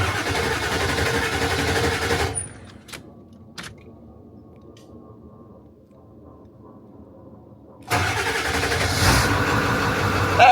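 A Powerstroke diesel swapped into a Ford Bronco runs loudly, goes quiet apart from a few faint clicks and ticks, then fires back up into a strong, steady roar.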